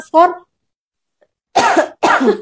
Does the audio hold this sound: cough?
yes